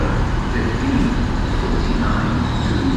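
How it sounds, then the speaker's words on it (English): Great Western Railway service 800-303, a nine-coach train from London Paddington to Paignton, arrives at Exeter St Davids station as a steady, loud rumble that holds for the whole span. "arriving in now is the very delayed 1501 Great Western Railway service from London Paddington to"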